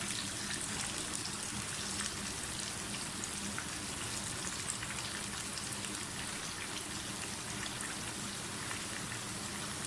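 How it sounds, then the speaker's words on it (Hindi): Chicken frying in cooking oil, a dense, steady crackling sizzle that holds evenly throughout, close and fairly loud with no talking. "चिकन हमारा फ्राई हो रहा है।"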